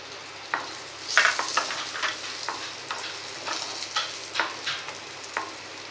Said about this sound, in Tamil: இதோட கருவேப்பிலை, புளி எல்லாத்தையும் போட்டு மொத்தமாக வறுத்து